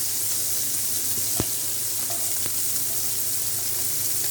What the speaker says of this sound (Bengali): এখন পেঁয়াজ দিয়ে দেবো